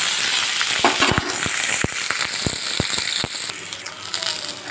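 Onions, tomato and green chilies sauté in oil in a pan with a constant sizzle, cut by a rapid series of sharp clicking scrapes from stirring.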